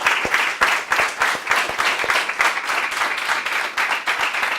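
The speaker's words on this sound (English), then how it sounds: "let's give Brian a round of applause" An audience gives a round of applause for Brian at the close of a weekly mentoring session: dense, steady clapping from many hands, fairly close, lasting the whole stretch with no talk over it.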